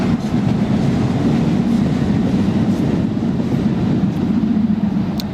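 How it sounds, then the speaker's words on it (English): A metro train rumbles past near a pier by Newcastle Airport, a loud, steady roar of wheels and carriages holding constant throughout with no talking. "It's another one of the metro trains just gone past."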